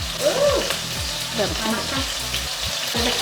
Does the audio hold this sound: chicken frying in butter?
yes